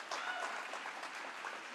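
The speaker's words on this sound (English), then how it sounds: "Could we have one more round of applause for Mayor Janet Cowell," Applause for Mayor Janet Cowell at a Raleigh gathering: a steady, dense wash of many hands clapping at a moderate distance, sustained for the whole stretch with no talk over it.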